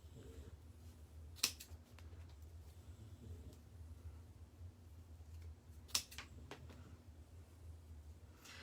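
Scissors cut craft ribbon at an angle for a farmhouse wreath with poofs and rolls: two crisp, separate snips several seconds apart, close and fairly quiet over a soft room hum.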